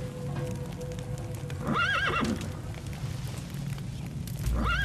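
A horse whinnies twice over the steady clop of hooves in the video game Metal Gear Solid V: The Phantom Pain, with a busy game background bed running throughout.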